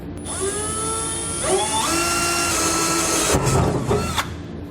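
A 3.5 inch hole saw drills through metal during a sliding fifth wheel hitch installation in a Ram truck bed, a loud steady whine that rises and shifts pitch as the cut progresses, with brief catches near the end.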